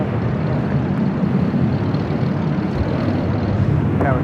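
A United Airlines Boeing 787-10 Dreamliner bound for London Heathrow roars at LAX, a loud, steady rumble of jet engines with no talking.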